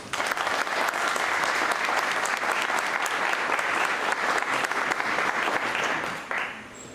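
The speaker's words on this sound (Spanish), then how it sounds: "para quien pido un gran aplauso" Audience at an international bicentennial congress applauds a panelist, with continuous dense clapping for about six seconds that then fades quickly to quiet.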